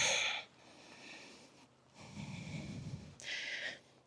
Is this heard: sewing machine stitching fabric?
no